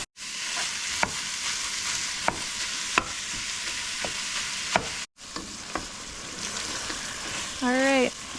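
Food browning in a pan over a camp stove during winter truck camping, giving a steady close sizzle and fry with a few sharp utensil clicks and scrapes, then a brief dropout and a faint whistling squeal near the end.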